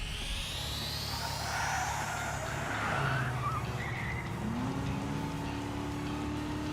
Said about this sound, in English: Is that a turbocharger?